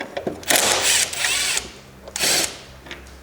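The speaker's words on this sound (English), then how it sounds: "Now we can get this 10mm bolt off." A power tool, likely a drill or impact driver, removes a 10mm bolt holding a car headlight in two loud bursts, about a second and half a second long, with ratcheting clicks between and around them and no talking.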